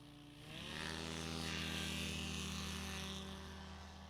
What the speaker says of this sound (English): I think that takeoff was better, Hal.